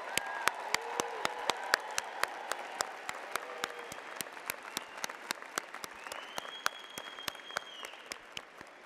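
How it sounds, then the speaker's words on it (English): Applause for the graduating class of 2023 at a college of education spring commencement, steady crowd clapping with distinct loud nearby claps cutting through and faint voices beneath. "join in a big round of applause one more time for our graduating class"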